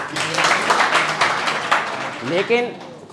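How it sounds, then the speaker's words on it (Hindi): An audience claps together at a Hindi poetry recitation, a dense wash of applause that fades after about two seconds, followed by a voice. "इसके लिए भी ताली हो जाए।"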